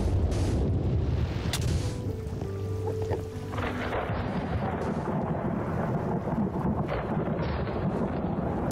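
Loud thunderstorm in Minecraft with a custom resource pack: a sustained roaring rumble of thunder with heavy rain-like wash, steady and dense throughout, with a brief sharper crack early on and no talk.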